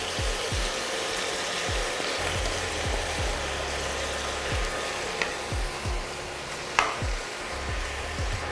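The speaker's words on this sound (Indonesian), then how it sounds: "Dan kita bisa masukkan cumi yang sudah dimarinasi tadi." Marinated squid sizzles and fries in hot oil in a pan, a steady close crackling hiss with regular soft stirring thumps and a couple of sharper clinks.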